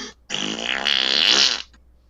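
A voice imitates a gigantic, juicy fart: one loud, sustained, wet buzzing blast lasting over a second, alone and close.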